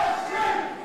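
Crowd at a wrestling match shouting together in a brief, loud sustained roar, heard from within the arena.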